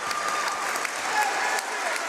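Dense clapping fills a high school gym after a made layup during varsity boys basketball, Miami Trace against McClain, as a brief, even burst of crowd applause with no pauses.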